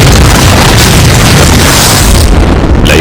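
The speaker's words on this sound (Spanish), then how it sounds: "Disparado por control remoto, disparaba todos sus cohetes a la vez." A German Nebelwerfer rocket launcher firing its six rockets in rapid salvo, a sustained loud roaring blast that stays dense and heavy from start to finish before cutting off sharply near the end.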